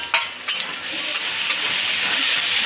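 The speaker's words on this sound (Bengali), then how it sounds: "পেঁয়াজের সাথে আমার চিংড়ি ভাজা হয়ে যাবে লাল লাল" Shrimp frying with onions in a hot pan, a dense continuous sizzle with a few sharp spatula knocks near the start, close and loud with no talk.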